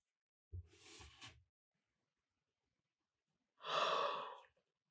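Two drawn-out human yawns during a guided channeling session: a short breathy one, then after a silent pause a longer, louder exhaling yawn, close to the microphone with nothing else around.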